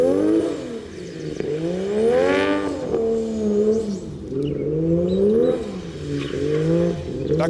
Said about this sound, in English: That car sounds incredible.